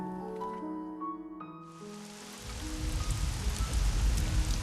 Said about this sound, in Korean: 비 내리는 아침이 밝았습니다